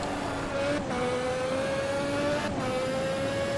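A 1988 Formula 1 race car engine in the Automobilista racing game, held at a steady high whine with two brief dips as if shifting, loud and close with no voices.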